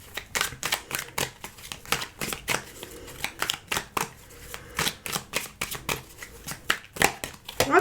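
Tarot cards shuffled for a reading, a rapid run of crisp riffling flicks and slaps repeating steadily and close up for the whole stretch, with no voice over them.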